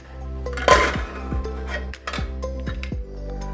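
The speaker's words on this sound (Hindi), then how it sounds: "कुकर का प्रेशर रिलीज हो गया है, तो अब इसे खोलते हैं।" A home pressure cooker is opened after its pressure is released while tiranga pulao is being made, giving a sequence of close metallic clanks and lid clinks, with one louder clatter early on and several sharper knocks following.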